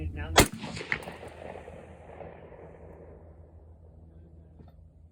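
A single sharp, loud gunshot from a Colt MT6700 HBAR rifle cracks near the start, then a long rumbling echo slowly fades out across the rest of the moment.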